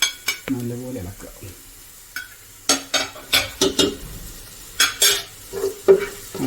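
A spoon stirs chili, cloves and cardamom frying in a pan, making a series of quick metallic scrapes and clinks in an irregular rhythm over a light sizzle, close and moderately loud, with a brief voice at the start.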